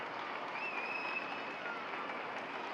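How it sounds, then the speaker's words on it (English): A stadium crowd at a New York Red Bulls II versus Charlotte Independence soccer match applauds as a player is substituted off, a soft, distant, steady patter of clapping heard alone for a few seconds. "He goes off to an applause."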